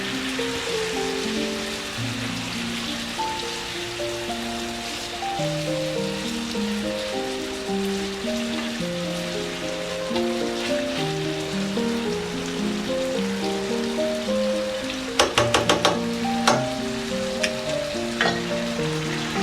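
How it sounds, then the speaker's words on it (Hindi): Green chillies tossed into smoky chicken gravy in a hot pan, a steady loud sizzle and crackle of frying, with a burst of sharp spattering pops near the end. "अब हम इसमें ये हरी मिर्चें ऐड करेंगे"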